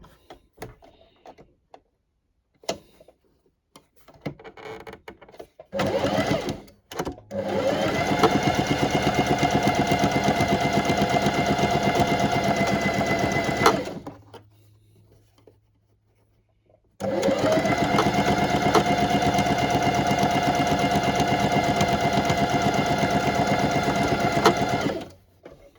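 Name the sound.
sewing machine stitching a doll dress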